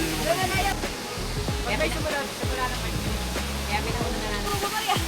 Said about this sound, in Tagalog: Dito po tayo sa Talay Falls.